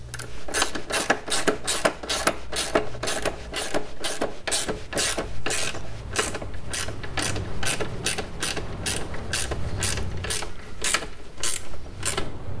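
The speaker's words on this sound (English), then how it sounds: "Reinstall the bolts, the washer, the nut, and do it all up." A ratchet tightens bolts on a Dynamic Kart Steering unit, a close series of rapid, evenly spaced metallic clicks repeating steadily with brief pauses between strokes, alone with no voices.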